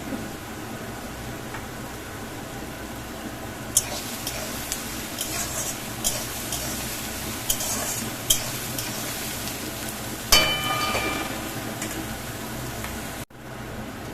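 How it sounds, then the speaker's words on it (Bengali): Spice masala is stirred in a frying pan with onions, a steady soft sizzle running throughout while a utensil scrapes and clinks against the pan in scattered strokes, fairly quiet and close. "মশলা দিয়ে একটু নাড়াচাড়া করে"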